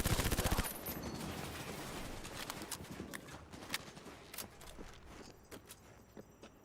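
Rapid gunfire in the video game Cyberpunk, an opening burst of closely spaced loud shots followed by scattered sharper reports and impacts over a busy, noisy background.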